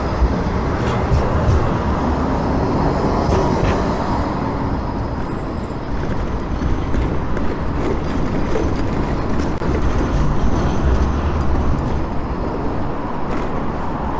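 A tram rolls along a city street on a morning drive, its broad rumble and rail noise steady and fairly loud throughout, mixed with surrounding road traffic and no talk.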